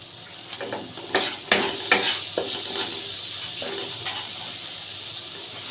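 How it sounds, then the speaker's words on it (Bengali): Spice paste stirred and fried in a pan with a splash of water, hissing steam and sizzle under a few quick scraping stirs early on. The steady frying hiss continues close by afterward. "মশলাটা এখন ভালোভাবে কষিয়ে নিব।"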